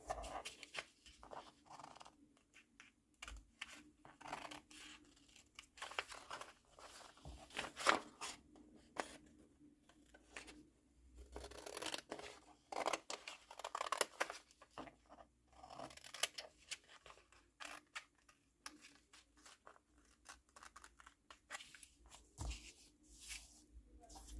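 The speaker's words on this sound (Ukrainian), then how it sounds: "Тепер я все це виріжу, і вам буде видно." Scissors snipping through fabric along a pattern while cutting out a vest with an open back: quiet, close, irregular crunching cuts and soft paper-and-cloth rustles, in short bursts with small gaps between them.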